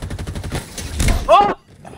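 Gunfire in the video game Halo Infinite during a co-op campaign, a rapid run of repeated shots with the bursts building toward a louder blast before cutting off, mixed with game sound and a voice.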